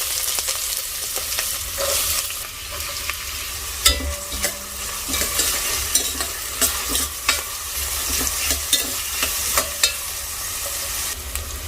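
One cup of onions fries in hot spiced oil for mutton pulav, a constant sizzling hiss broken by repeated scraping and clinking of a spoon stirring the pan, up close and without any voices.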